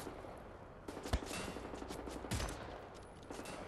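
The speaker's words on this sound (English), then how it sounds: "Let me just use my shotgun on it" Two sharp shotgun blasts from Wolfenstein: The New Order, about a second apart, ring out loud and close over a steady bed of game ambience.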